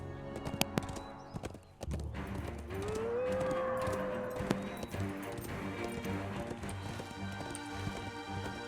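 The horse Shadowfax gallops in the online game Lord of the Rings Online, a quick rhythmic clip-clop of hooves running steadily under game music, with a brief neigh-like tone rising partway through.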